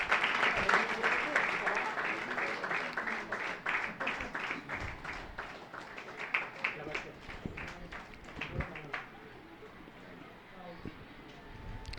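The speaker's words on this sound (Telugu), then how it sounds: "గట్టిగా చప్పట్లు కొట్టి వారిని కూడా ప్రేమతో అభినందిద్దాం" An audience at a New Year's Day gathering claps loudly and continuously, the dense patter of many hands running for several seconds before thinning, with voices heard alongside.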